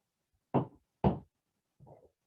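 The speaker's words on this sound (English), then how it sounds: "Let me move my chair." A chair shifted across the floor in a seated warm-up session, heard as two loud knocking scrapes about half a second apart, then a softer third bump, with no talking.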